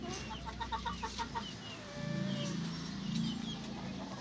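A stag gamecock in a backyard flock gives short clucking calls in a quick series, close by, followed by a lower steady murmur with faint background noise.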